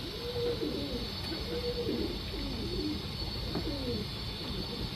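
Soft, repeated cooing from a female surmai rakdar pigeon, a few low rolling coos over a steady background hiss.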